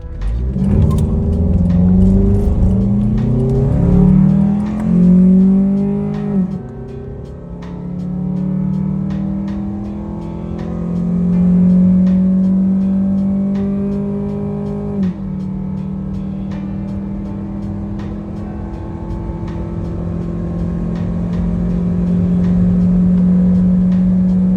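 A 2005 Honda Element driving fast downhill on a road near Tijuana, Mexico, heard from inside as a loud, steady engine drone that rises through gears with shifts and a long sustained hum, no talking.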